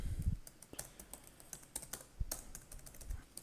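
Quick, light keystrokes on a computer keyboard clatter in irregular bursts as a terminal command is typed, close and fairly quiet, with no talking.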